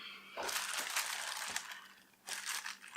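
Cardboard box packaging from an electronics starter kit crumpled and pulled away: close, loud bursts of crinkling and crushing in two stretches, with a short lull between.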